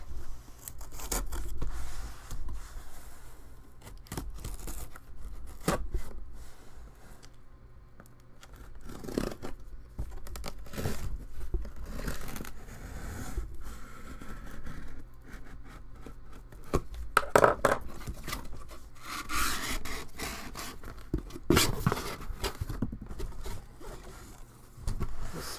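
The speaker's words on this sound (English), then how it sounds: "Here's the full box. I'm going to cut it open" A blade cuts open a cardboard case of 2014 Totally Certified football cards, with quiet, close scraping and slicing strokes, intermittent rustles and a few sharper snips across a soft, low-level background.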